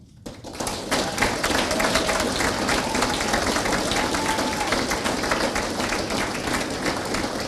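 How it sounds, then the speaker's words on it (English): Sustained applause from a ceremony audience honoring Army retirees, dense steady clapping that fills the room after a brief quiet start and holds evenly throughout. "give our retirees another round of applause"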